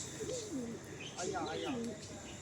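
Madrasi pigeons give a few soft, rolling coos, two wavering bursts close by against a low background murmur.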